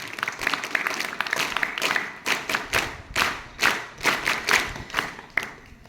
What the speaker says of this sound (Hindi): चलिए एक बार आप लोगों के लिए तालियां।